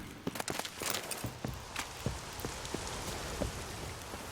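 Steady rain patters across a surface in The Witcher 3, a dense hiss with scattered louder drops and occasional footstep-like thuds, heard alone without speech.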